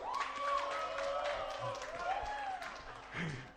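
Audience applause and cheering at a live reporter slam event in Kampala, a steady crowd clapping with a few whoops that holds for several seconds, then tails off near the end.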